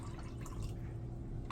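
Watermelon juice poured into a glass, a steady low liquid stream running alone throughout with a faint drip-like patter.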